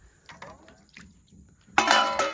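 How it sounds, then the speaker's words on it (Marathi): Cooking pots are set down for washing near a river, a few faint clinks and knocks of metal, then a louder, fuller clatter of pots near the end. "भांडी धुवायला ठेवू।"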